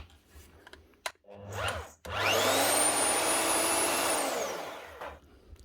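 A repaired AGP DMC6P diamond core drill spins up with a rising whine, runs loud and steady for about three seconds, then winds down. Light clicks and handling noise come before it starts.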